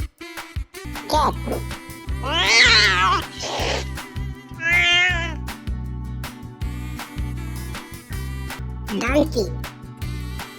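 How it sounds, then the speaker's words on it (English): A domestic cat meows several times in drawn, wavering cries over a rhythmic music backing, with a voice speaking briefly. "Cat."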